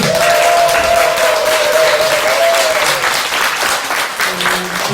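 Loud, sustained applause fills a Buddhist dharma assembly at Bomunsa temple in Seoul, many hands clapping together evenly, with a faint held tone beneath and a few muffled voices near the end.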